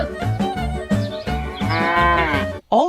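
Cows mooing on a farm, a series of loud, close, drawn-out bellows that rise and waver, one call after another, with a short sharper call at the end.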